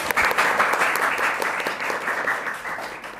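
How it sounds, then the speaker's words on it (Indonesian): Audience applause greeting Dr. Dian Hendrawati Prasetya, a master of management guest, at a podcast taping: steady, dense clapping from a crowd, fairly loud and continuous throughout, gradually thinning toward the end, with no voices over it. "mari kita sambut Dr. Dian Hendrawati Prasetya, Magister Manajemen dengan tepuk tangan yang meriah"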